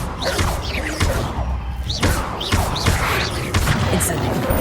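Confringo blasting curse cast in the video game Hogwarts Legacy: a dense run of game combat with repeated booming impacts and thuds roughly every second, loud and continuous, layered with bright crackling effects.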